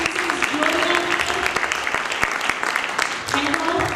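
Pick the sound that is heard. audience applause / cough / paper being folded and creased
audience applause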